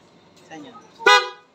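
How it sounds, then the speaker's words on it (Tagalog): A single short, loud honk from a newly installed PIAA car horn sounds close by, following some quiet talk. "Busina."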